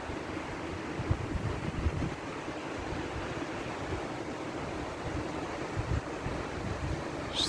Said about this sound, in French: J'arrête pas de filmer cette rivière,